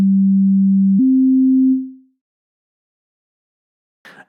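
A steady, loud, pure low tone from a Mela 7.1 frequency shifter module set to cubic shifting steps up slightly in pitch after a second, then fades away to silence, followed by a short faint noisy burst near the end.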